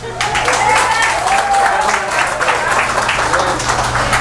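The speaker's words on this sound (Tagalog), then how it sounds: "Ang hina naman ng palakpak ko." An audience at a Filipino motivational seminar claps in a steady, fairly loud patter of many hands, with a speaker's voice carrying over the applause.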